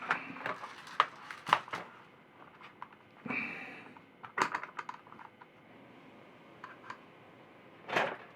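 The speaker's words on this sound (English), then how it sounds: "Now, get my screws out." Tiny screws being removed from a Dell Inspiron 1525 laptop: scattered sharp clicks and taps of a small screwdriver and parts, fairly close and quiet, irregular in rhythm.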